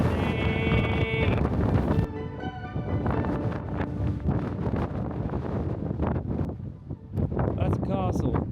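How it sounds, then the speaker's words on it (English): Strong wind buffets a microphone outdoors with loud, rumbling gusts and roaring noise that swell and ease, while people talk over it. "it's still very windy"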